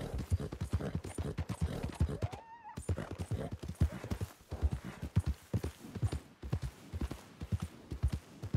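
Horse hooves clip-clop steadily in the Red Dead video game, a continuous rhythmic trotting that runs throughout, with a brief whinny partway through.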